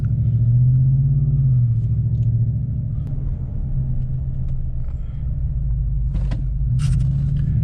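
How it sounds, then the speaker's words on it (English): A 2014 Ford F150 FX4 truck drives on a road with a steady low engine and tire rumble, speeding up to around 35 and braking, heard from inside the cab with a few faint scrapes near the end. "Do this again, get up to 35, and then hit the brakes,"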